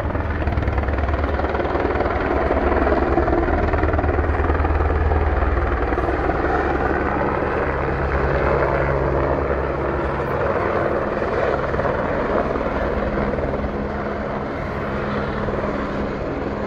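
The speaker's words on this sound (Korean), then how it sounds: "헬리콥터가 이렇게 가까이 내려올까요?" Helicopter flying low overhead in Zermatt, Switzerland, a loud continuous rotor and engine roar with a deep throbbing beat that holds steady, then eases slightly toward the end, with no talk over it.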